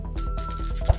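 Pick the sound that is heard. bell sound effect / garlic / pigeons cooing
bell sound effect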